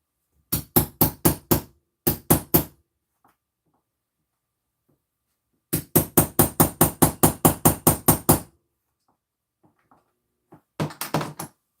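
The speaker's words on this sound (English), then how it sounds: "I gotta hammer it, so be ready for some loud noises." Rapid bursts of loud hammer blows, close by, in quick runs of several strikes each, separated by pauses of near silence.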